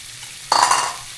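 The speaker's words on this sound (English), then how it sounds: "I have to reduce this bacon to usable brown bits" Pancetta hitting a hot, large sauté pan, a sudden loud sizzle bursting up after a brief quiet and then settling into a steady frying hiss, close and alone.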